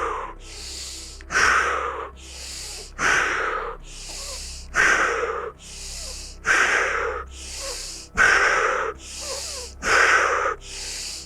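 Wim Hof rapid breathing, done as a guided round: deep, forceful inhales and exhales repeat in a steady rhythm about every two seconds, loud and close, with no talking over them.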